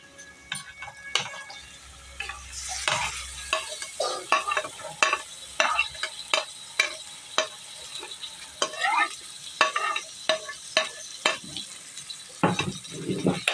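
Beef keema frying in a pan with tomatoes, stirred with a utensil that gives a steady run of sharp scraping clicks over a continuous sizzle, loud and close, with no voices.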